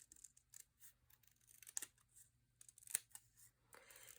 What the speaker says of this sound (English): I'm just going to trim this green strip off of here.